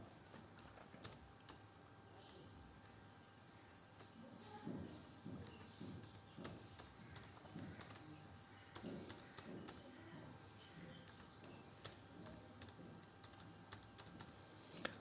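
Typing on a computer keyboard to enter a password, a soft, fairly quiet patter of key clicks spread over the stretch with a faint background hiss and no talk.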